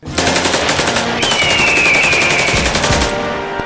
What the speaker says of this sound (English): There's demons walking around with machine guns shooting people.